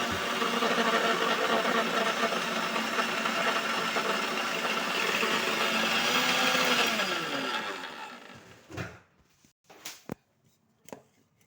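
A mixer grinder grinds roasted gram (pottukadalai) for laddu with a loud, continuous whirring roar up close for about eight seconds. It then winds down and stops, followed by a few sharp clicks and knocks.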